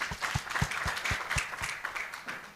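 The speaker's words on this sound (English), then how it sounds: "A round of applause for him." Applause at a climate science symposium in Rwanda, a small group clapping with a few distinct nearby hand claps standing out in a roughly regular rhythm over lighter background clapping.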